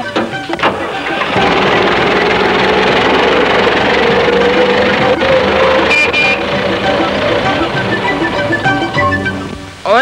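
A tractor engine runs steadily and loud for the whole stretch in an old Pakistani film scene, with a dense mechanical roar, music-like tonal layers and a brief voice near the start.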